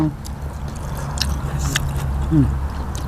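Someone bites into and chews cooked chicken liver from a Thai native-chicken soup with fragrant greens, making close, wet squishing and chewing sounds with a brief vocal murmur.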